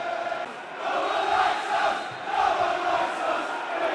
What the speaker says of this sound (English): Good crowd in here tonight.